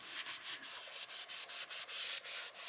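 Steady rhythmic sanding of a craft surface, a dry gritty rasp repeating in quick back-and-forth strokes, close and continuous.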